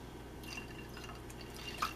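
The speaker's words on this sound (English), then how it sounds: "We're going to give it a few splashes of sweet and sour." Sweet and sour mix splashed into a homemade margarita, a few soft liquid drips and splashes over a quiet background, with one brighter splash near the end.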